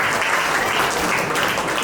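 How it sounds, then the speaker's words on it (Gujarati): Applause from an audience at an annual community gathering, a brief steady burst of many hands clapping, moderately loud and even throughout. "એના માટે એકવાર તાળી વગાડી"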